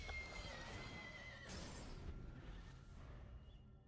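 A horse neighs in a game sound effect from Magic: The Gathering, a loud whinny with a bright burst partway through, then fading out without any talk.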